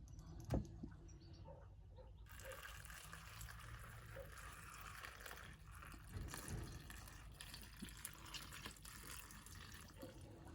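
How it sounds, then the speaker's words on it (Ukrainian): Salted water pours and trickles over mushrooms in a container, a soft, close liquid splashing and gurgling that continues quietly, with a faint knock near the start. "Заливаємо грибочки підсоленою водою."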